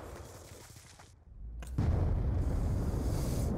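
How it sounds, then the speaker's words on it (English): A grenade goes off in Call of Duty: Black Ops 2, a sudden loud blast that swells into a sustained heavy rumble after a brief lull, with no talking over it. "Of course, the most random fucking grenade."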